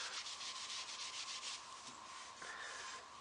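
Steady scraping rub of paint being stripped off a wooden coffee table leg on a 1965 Lane Acclaim table, a close, continuous abrasive hiss with a brief pause partway through.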